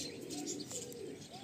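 Malwai pigeons from Punjab coo softly in low, rounded tones against a steady background hiss, with a faint chirp or two mixed in and no talking.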